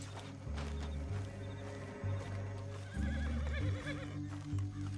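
Video game horse whinnies several times over a steady low drone, with a few hoof clip-clops mixed in; loud and close, no talking. From Red Dead Redemption 2.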